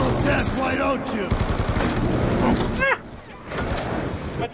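Rapid Death Machine minigun fire in Call of Duty Black Ops 2 zombies mode, a dense continuous burst lasting about three seconds over game sounds, then cutting off into quieter background; a voice talks throughout.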